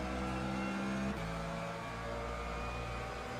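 LMP2 prototype race car engine in the Le Mans Ultimate racing game, a steady high drone that drops pitch once early on, then holds an even note at moderate level.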